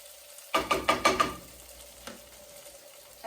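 Potatoes browning in a hot pan give a quick run of four or five sharp scraping, crackling bursts, then settle into a low steady hiss with one more faint crackle near the end.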